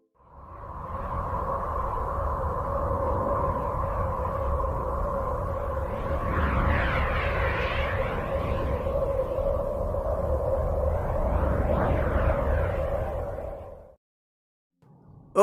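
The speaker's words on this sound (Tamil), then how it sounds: "இப்போ நம்ம கேட்க போகிறது யுரேனஸோட சத்தம் தான்." Uranus sounds captured by the Voyager 2 spacecraft: a steady eerie hum with two sustained droning tones over rumbling noise, with rising and falling swoops swelling in the middle, continuous and alone for about fourteen seconds.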